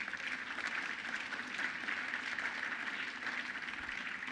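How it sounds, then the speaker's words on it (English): Audience applause at a governor's public event at CUNY, a steady broadband wash of clapping sustained at even loudness throughout with no voices over it. "Let's give him a big round of applause."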